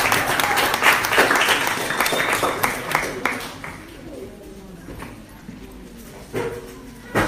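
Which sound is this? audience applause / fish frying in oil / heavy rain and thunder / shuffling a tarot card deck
audience applause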